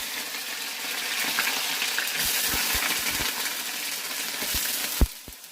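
Potatoes drop into hot oil already seasoned with black cumin in a kadai, giving a steady close sizzle with a few sharp metallic clinks and taps near the end.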